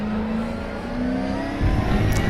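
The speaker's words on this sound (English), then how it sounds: "And we'll lock up the brakes to celebrate." Aquila CR1 race car in RaceRoom Racing Experience at Hockenheimring, a steady engine drone with tire noise that swells abruptly near the end as the brakes lock up, heard alone without talk.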